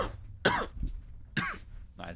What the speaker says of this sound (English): all this coughing is going to be in that.